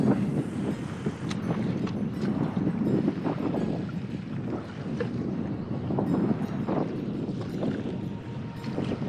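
Wind buffets a fishing boat out on the water, a steady loud rumbling roar of gusts on the microphone mixed with engine and hull noise.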